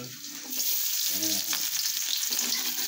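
Shallots and garlic frying in hot reused oil, once used for fried shrimp with egg, give a loud, steady close-up sizzle with stirring throughout, and a brief voiced sound rises in the middle.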